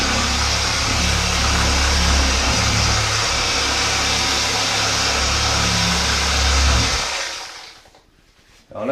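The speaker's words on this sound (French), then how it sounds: "je vais commencer sur un mode de ponçage libre" A Triton TGEOS random orbital sander runs at its lowest speed in free sanding mode, a steady whirring motor hum with broadband hiss, fairly loud and continuous for about seven seconds before cutting off and winding down.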